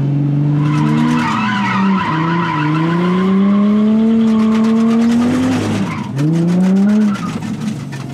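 A race car drifts sideways around a track corner, tires squealing continuously with a loud, wavering screech and the engine revving beneath, close and sustained for several seconds.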